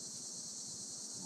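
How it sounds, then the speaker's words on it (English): Cicadas singing in the background on an August day, a continuous high buzzing drone that stays steady and fairly faint throughout, with no talk. "You hear those cicadas in the background?"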